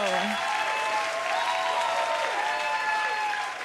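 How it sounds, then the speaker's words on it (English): Audience applause at a stand-up comedy show, a dense steady clapping from a crowd filling the room, loud and sustained throughout before tapering slightly at the end. "That's what happens when I say that in America. I get applause."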